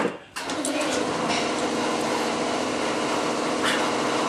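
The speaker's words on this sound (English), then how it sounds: "I'm going to drill this hole." An air drill bores a hole in an aircraft center rib on a Bearhawk build, whining steadily and closely after a brief start, continuous for several seconds.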